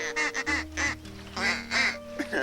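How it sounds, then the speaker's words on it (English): A hunter's duck call is blown in a series of loud, nasal, quacking honks in quick bursts, close up along the Upper Mississippi waterway. "here's Tom sitting down with Josh, blowing out the duck call, trying to figure out whether or not ducks are going to be flying over top"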